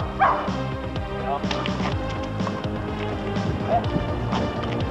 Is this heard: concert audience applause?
no